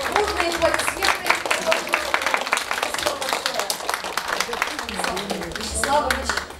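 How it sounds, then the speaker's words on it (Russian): Audience applause following a doctor's talk, dense steady clapping from many hands across the whole stretch, mixed with crowd voices and some talking over it. "Бурные аплодисменты"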